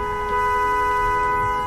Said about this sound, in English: Now we're going to honk at people.